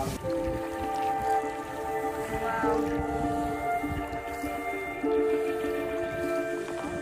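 A kayak paddled through a Norwegian fjord in the Lofoten Islands, with steady water swishing and splashing close by and a voice talking intermittently over it.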